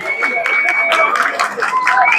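An audience at a village honoring ceremony claps steadily in a busy, close patter, with chatter and voices mixed in.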